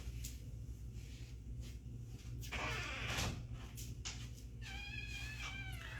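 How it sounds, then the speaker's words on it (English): A cat meows at a door while it is slid or pushed open, with a short scraping rush followed by a clear, fairly close meow over a low steady hum. "Forgot to open the door for the cat"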